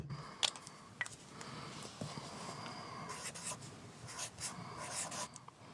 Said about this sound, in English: So I'm going to write down that number.